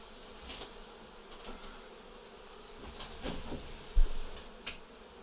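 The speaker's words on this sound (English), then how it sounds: "you get these bees right here?" Honey bees buzz faintly and steadily during a hive cutout, with a few louder passes as individual insects fly close, and a soft thud near the end.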